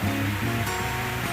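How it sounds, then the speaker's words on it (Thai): Soft water pours in a steady sheet down a koi pond waterfall curtain, a continuous close hiss with gentle low splashing and no voices. "มีเสียงน้ำไหลนุ่มๆแล้วกันเนี่ย"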